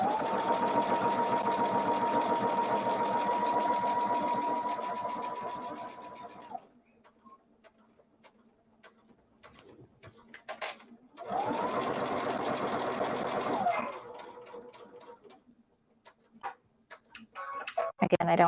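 A sewing machine runs in two long bursts while piecing quilt fabric, a rapid ticking hum that pauses for several seconds of quiet handling between them, the second run briefly reversing for a back stitch.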